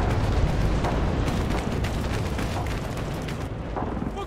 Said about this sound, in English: Even the bravest warriors killed by artillery